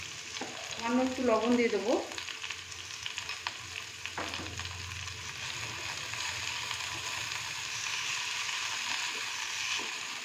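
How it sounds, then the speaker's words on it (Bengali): Bread upma sizzles and is stirred in a pan with mustard seeds, curry leaves, dried chilli, onion and tomato, making a close, continuous fizzing hiss. Someone speaks briefly at the start over the frying. "এবার এটাকে একটু ভালো করে ভেজে নেব"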